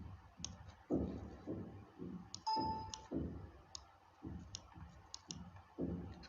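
A computer mouse clicking in Photoshop: small, light clicks spaced irregularly over a soft, low, murmuring background.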